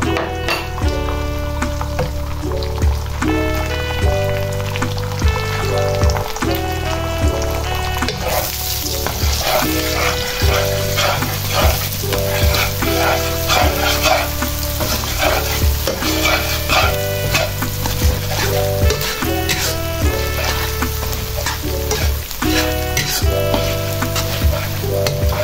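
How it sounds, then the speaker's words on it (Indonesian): Scrambled eggs fry in hot oil for a spicy orak-arik with basil, giving a loud, continuous sizzle and crackle while a utensil stirs and scrapes the pan at irregular moments throughout. "Bun, ini minyaknya sudah panas. Kita masukkan telur orak-ariknya ya."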